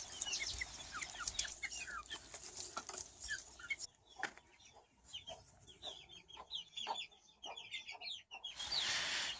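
Aseel hens clucking in a yard while sitting on eggs, a steady run of short, fairly close clucks with faint bird chatter around them and a brief lull midway.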